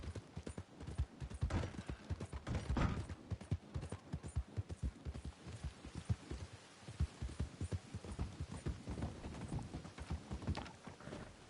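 Horse hooves clip-clop in a steady rhythm through pens and a barn in Red Dead Redemption 2 Online, moderately loud and close, with occasional faint snorts and no talking.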